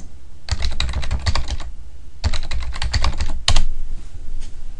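Password keys tapped on a computer keyboard while encrypting a Windows PC, three quick bursts of rapid clicking keystrokes separated by short pauses, close and clear with no talk.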